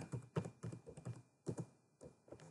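Keys clacking on a computer keyboard in an uneven run of close, distinct taps with short pauses between bursts, and no voices alongside.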